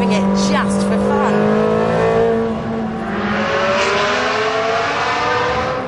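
A Ferrari 360 Challenge race-car engine revs high and loud, its pitch sweeping up and down in repeated bursts, with a sharp, snarling mechanical tone.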